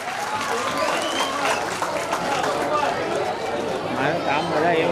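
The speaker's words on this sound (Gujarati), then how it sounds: "ખૂબ ખૂબ તાળીઓથી સન્માન કરીશું." An audience at a student honour ceremony held by a community service trust claps steadily throughout, a dense continuous applause with crowd chatter and voices mixed in.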